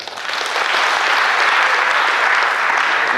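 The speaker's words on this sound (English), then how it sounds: "I think somebody should clap for that." Audience applause swells quickly into a thick, sustained wash of clapping from a large crowd at a ceremony, holding steady and loud to the end.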